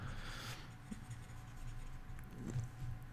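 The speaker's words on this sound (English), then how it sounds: "Let me just write that more neater." Pen moving across paper while a maths exam problem is worked out, a soft continuous scratchy rubbing with small strokes and pauses, close and quiet, with no talking.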